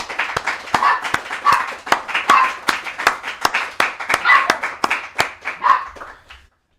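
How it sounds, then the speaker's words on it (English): Crisp, steady rhythmic clapping, with sharp claps evenly spaced about three per second, holds at a strong level and then stops abruptly near the end. "A great big applause"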